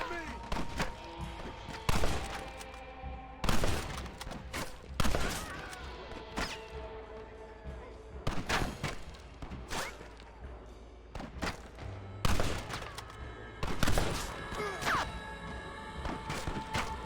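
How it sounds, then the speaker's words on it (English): Bursts of gunfire in a Western shootout in Red Dead Redemption, with repeated loud cracks and booms arriving in clusters, mixed with game voices and ambient noise. "Stop shooting at me!"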